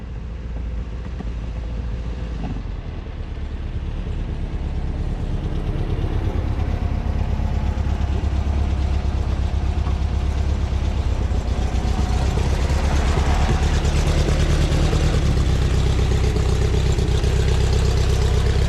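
A Volkswagen bus engine, on a single-cab barn-find under restoration, runs steadily at idle, then builds into a louder, fuller drone as the bus pulls away up the road. Loud and close, with no voices.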